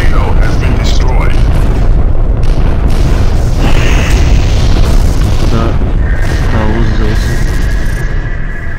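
Big rumbling explosion as the NTC Cato spaceship is destroyed in FreeSpace 2, loud and sustained with layered blasts and tonal effects, while voices talk over it.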